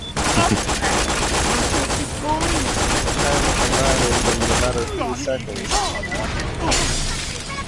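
Submachine gun fire in Borderlands: The Pre-Sequel, dense rapid bursts with shattering impacts and mechanical clicks, heard loud and continuous under a player's talk.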